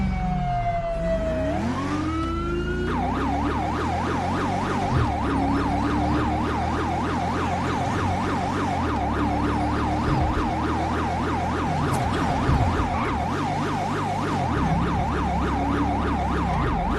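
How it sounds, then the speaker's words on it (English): A police car siren in the LSPDFR police game switches on with a rising wail, then settles into a loud, rapid, steady yelp that repeats continuously over a low engine drone. "I mean to turn on my freaking siren."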